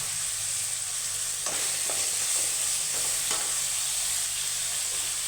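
A green chili frying in oil in a pan for garlic kuzhambu, a steady loud sizzle with a few spatula stirring scrapes, no talking.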